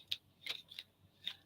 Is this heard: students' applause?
no